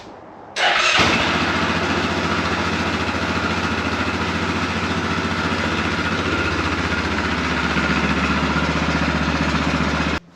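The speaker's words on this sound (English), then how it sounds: "the engine starts up, and it is a 660" A Yamaha Grizzly 660 ATV engine cranks and fires up with a sudden roar, then settles into a steady, loud, rumbling idle that runs unbroken to the end.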